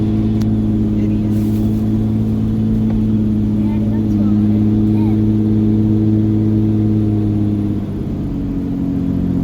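A Cummins diesel pickup truck accelerates hard, a steady loud engine drone building under the cab while people talk inside throughout.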